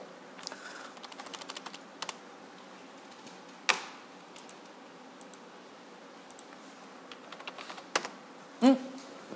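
Numbers typed on a computer keyboard followed by the enter key, a run of light, close key clicks in uneven bursts with a heavier keystroke near the end, no speech.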